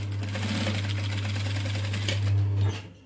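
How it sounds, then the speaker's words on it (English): Sewing machine running steadily to stitch a tacking seam on a handmade wallet, a continuous close motor hum with rapid needle rhythm for about three seconds, rising slightly near the end before stopping. "I'm just stitching within the seam allowance so that we won't see this"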